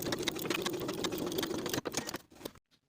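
A sewing machine stitches horizontally along the bottom edge of a lined coat's vent extension, running in a fast, steady, close rattle, then slowing to a stop.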